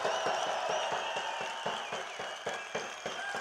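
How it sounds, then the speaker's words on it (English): Outdoor applause from a crowd at an Alberta independence rally at the Legislature thanks the speakers, moderately distant clapping mixed with crowd murmur and some cheering, with several sharper claps standing out. "Let's give them a good round of applause."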